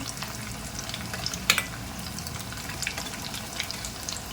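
Pieces of taro root (arbi) frying in hot oil, a steady soft sizzle with faint bubbling crackles and one brief louder clink partway through, no voices.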